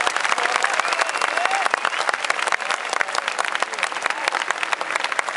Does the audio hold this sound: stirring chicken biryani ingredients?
no